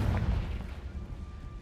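A Confringo fire spell blasts in the Hogwarts Legacy video game, a single loud burst at the start that decays into a rumbling tail.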